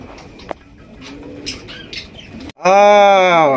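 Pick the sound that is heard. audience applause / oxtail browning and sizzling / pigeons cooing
pigeons cooing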